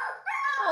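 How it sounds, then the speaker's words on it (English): A puppy whining in a crate, a short, high, wavering whimper that dips briefly and then rises again, close and clear with no talk. "Puppy crying."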